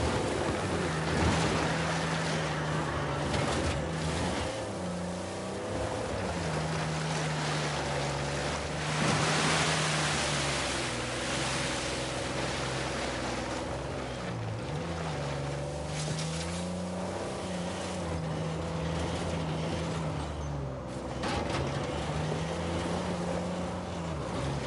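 Rushing water roars steadily at a secret cave behind a waterfall in Uncharted 4, a dense, continuous wash of broadband noise that stays loud and close throughout, with a low droning hum running underneath.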